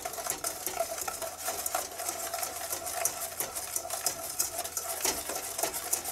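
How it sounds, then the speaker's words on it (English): A whisk beats a milk mixture for eggnog in a bowl, producing a fast, steady rhythmic clicking and swishing that runs without pause throughout. "But all the time, whisking. Don't stop."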